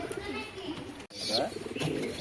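Pigeons coo softly in a home loft, giving low rounded calls, with a few chirps mixed in. The birds are heard under and between nearby conversation.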